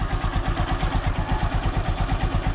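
Honda Supremo motorcycle engine idling after a cold start, a steady close-up putter with even rapid low pulses and light mechanical clatter throughout, no voices.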